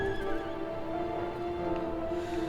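A flying horse mount in the video game Final Fantasy XIV gives a drawn-out whinny over a soft, sustained tonal backdrop, with faint hoof-like clopping and no speech.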